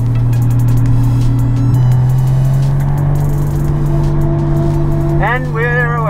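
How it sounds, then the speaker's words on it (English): A Toyota Supra with a 1J engine and a slightly bigger turbo drifting in third gear, its engine droning loud and steady from inside the car, then rising sharply in a rev near the end. "So we're in third gear at the moment in this 1J Supra with a slightly bigger turbo."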